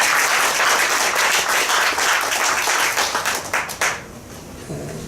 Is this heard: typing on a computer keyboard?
no